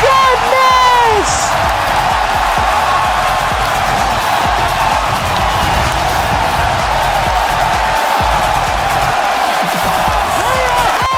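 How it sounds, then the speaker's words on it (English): Steady roar of a cheering stadium crowd in a Rocket League esports match, loud and continuous with whoops and yells, a brief whistle-like game sound near the start. "The crowd is still on their feet, still cheering."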